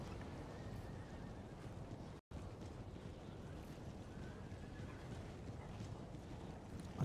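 Continuous clip-clop of many horses galloping in the video game Napoleon: Total War, a dense rumbling patter at moderate distance with a brief dropout partway through.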